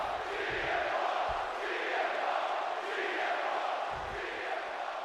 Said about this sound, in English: Crowd is loudly chanting for CM Punk.